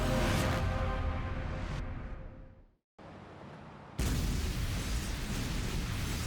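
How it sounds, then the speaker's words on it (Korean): A massive explosion opens the post-apocalyptic anime Sabikui Bisco: a loud, broadband roaring blast that slowly fades, a moment of near silence, then a second loud, sustained rumbling burst. "시작부터 대폭발이 일어나서 세계가 한번 멸망하는데요"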